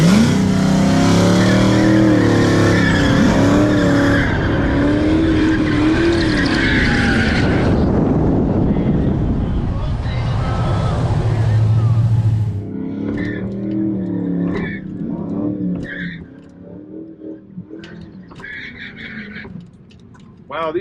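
Drag cars at a quarter- and eighth-mile strip spin their tires, among them a Plaid, Turbo Cobra, COPO Camaro and NOS GTA on drag radials. Loud engine roar and tire screech dominate, then fade to a quieter rumble with talking.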